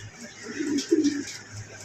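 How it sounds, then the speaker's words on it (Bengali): A pair of pigeons gives a soft, low, close coo lasting about a second, with a quiet background hum around it. "দেখেন কত সুন্দর এক জোড়া মুখী কবুতর"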